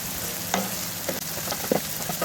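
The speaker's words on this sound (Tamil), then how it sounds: "வெங்காயம் வதங்கும் போதே கருவேப்பிலையும் போட்டுக்கலாம்." Onions and curry leaves frying in a pan for a sankara fish curry, a steady close sizzle with a few light stirring scrapes of a spoon.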